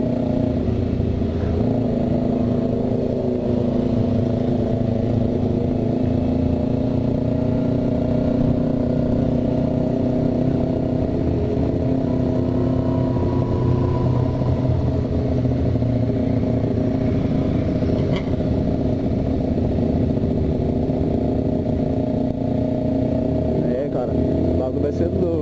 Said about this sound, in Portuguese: Tem muita moto vindo ainda.